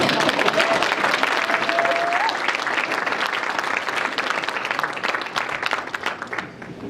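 Applause from an audience at a Boy Scout troop's 25th anniversary celebration follows a skit, dense and fairly loud at first, then thinning and growing more scattered by the close, with a brief whistle early on.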